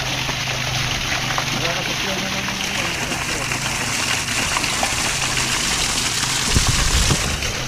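A water-pumping motor readied for a swimming pool runs with a steady, loud, close mechanical drone and watery rush throughout, with people talking over it.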